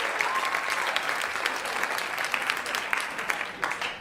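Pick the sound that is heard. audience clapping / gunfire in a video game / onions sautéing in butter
audience clapping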